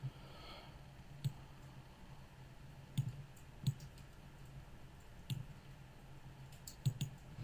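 Faint, sparse mouse clicks land one at a time at irregular intervals as anchor points are placed with the Photoshop pen tool, over a quiet room hiss.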